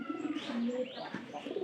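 Pigeons coo in soft, repeated throaty phrases close by, with a few brief chirps mixed in and no talking.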